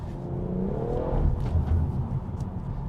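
A tuned Stage 2 BMW F21 M140i with a manual gearbox accelerates hard in third gear, a close, loud engine roar with a rising pitch sweep before settling into a steady rumble.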